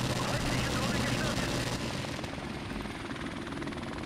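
Helicopter killstreak in Call of Duty: Modern Warfare Remastered on the map Crash: a steady, loud rotor and engine drone fills the clip, with faint gunfire mixed in.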